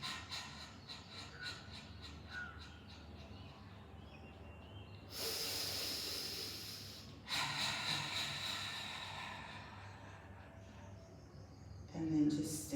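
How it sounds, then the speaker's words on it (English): During a yoga session in South India, slow, audible breaths are drawn and released: two long, airy exhales stand out clearly amid quiet background hiss, with a soft voice and faint sounds around them. "On the exhale, let the breath come out."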